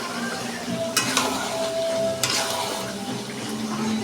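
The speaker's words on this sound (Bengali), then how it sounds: "আমি এর মধ্যে একটু জল দিয়ে দেবো।" Meat curry simmering and sizzling in a pot after frying in oil, with a steady close crackle, a couple of sharp splashy bursts as water goes in, and faint stirring underneath.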